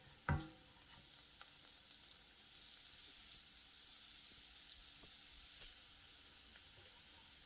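Split pigeon pea dal cooking in a pan gives a soft, steady sizzle and hiss throughout, opening with one brief sharp knock, with faint occasional ticks and no voices.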